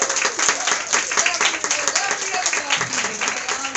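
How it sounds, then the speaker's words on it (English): Live audience clapping and cheering at a stand-up comedy show in Brussels, a dense burst of applause sustained at steady loudness throughout, with voices mixed into the crowd noise. "Can we give a round of applause for the black people who showed up tonight?"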